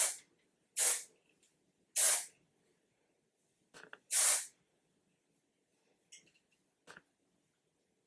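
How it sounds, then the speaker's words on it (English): Nexxus hairspray sprays from a can in three short, sharp hissing bursts close by, spaced about a second apart, with faint handling clicks and rustles between them in a quiet room. "And then I grab some hairspray. This is the Nexus"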